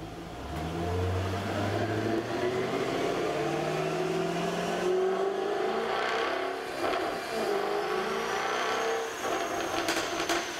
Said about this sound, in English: But let's listen to a V8 on the dyno because they sound a lot different.